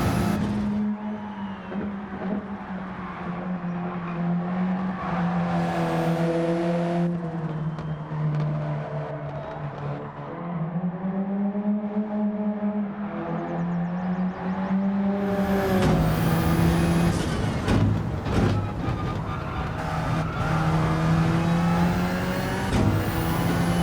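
A race car roars around a track in the racing video game Gran Turismo 7, its engine droning steadily and shifting pitch through the gears, then surging louder and harsher late in the run with rough rattling bursts and no voices.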